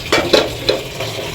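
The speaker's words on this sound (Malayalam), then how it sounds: "അപ്പൊ ഇതിൻ്റെ അകത്താണ് നമ്മൾ ചോറ് വറുത്ത് വെക്കുന്നത്." Leftover rice stir-fried in a pan gives short scraping stirs over a soft sizzle, a few quick strokes close by.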